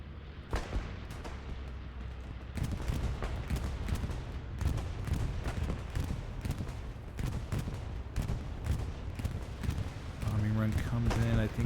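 A bombing run hits during a Hell Let Loose match in Hurtgen Forest, with distant explosions and bursts of gunfire crackling in a steady rapid stream. The blasts build louder partway through, with voices talking over the battle.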